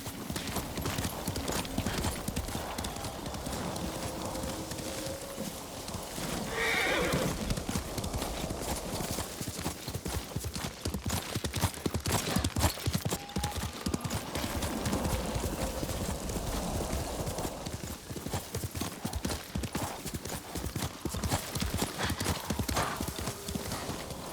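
Rapid rhythmic hoofbeats of a galloping horse in the video game Ghost of Tsushima pound steadily throughout, with a brief whinny partway through, all over continuous background sound.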